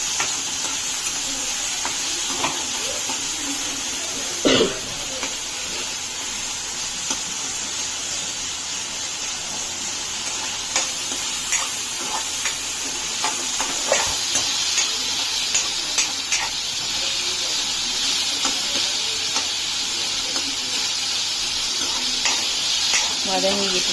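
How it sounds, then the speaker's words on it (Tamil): Onions and tomatoes sauté in oil for Chettinad chicken, a steady close sizzle with frequent spatula stirs and scrapes against the pan, plus one louder knock partway through. "எண்ணெய் பிரிஞ்சு வச்சு வதக்கணும்."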